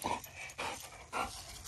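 A black Labrador puppy pants in quick, rhythmic breaths, close and fairly soft, with no talking.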